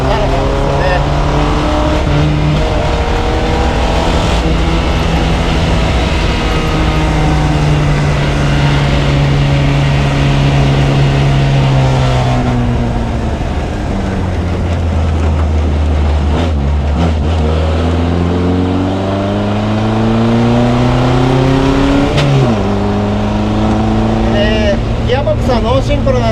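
A Fiat 1100B Sport Barchetta with a no-synchro gearbox drives loudly from inside, its engine rising and falling through repeated revs and double-clutched shifts as someone talks over it.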